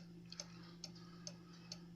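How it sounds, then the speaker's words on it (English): A restored antique cuckoo clock with new chains ticks steadily, four evenly spaced, crisp ticks about half a second apart, fairly faint over a low steady hum in a quiet room. "This is my grandmother's cuckoo clock that she gave me."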